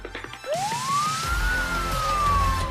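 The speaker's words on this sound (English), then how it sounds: "Arriving by ambulance to Alderhay Emergency Department is 4-year-old Billy." Ambulance siren sweeping up and holding a loud wailing tone as it arrives at a children's hospital emergency department, with steady road rumble beneath and no talking.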